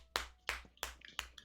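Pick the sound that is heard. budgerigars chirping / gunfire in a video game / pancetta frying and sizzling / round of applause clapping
round of applause clapping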